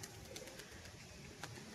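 Beldanga-type pigeons, a male and female pair, coo softly, with low, throaty burbling calls that are faint and a little distant against a quiet background.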